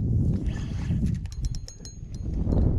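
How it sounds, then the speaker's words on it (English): Wind gusts buffet the microphone on a boat in a Louisiana marsh during redfish fishing, a loud low rumble that swells and eases, with faint light clinks in the middle. "All of a sudden, wind picked up."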